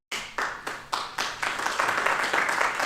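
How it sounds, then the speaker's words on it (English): At a Sugar Land city council meeting, a few distinct, spaced hand claps quickly multiply into a fuller, continuous round of audience applause. "no clapping, please."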